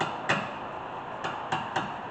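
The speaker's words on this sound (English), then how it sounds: "I'm just going to tap it with the hammer just a little bit." Four light hammer taps on a brake part of a 2015 Hyundai Elantra during a brake job, one after a short pause and then three in quicker succession, sharp and close over quiet background.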